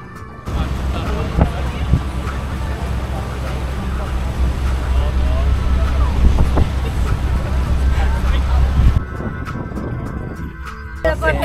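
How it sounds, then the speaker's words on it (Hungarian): A boat's steady low engine drone with rushing wind and water noise continues for several seconds on a cruise around Trogir, Croatia, then drops away to quieter rumbling near the end. "Itt vagyunk a hajón"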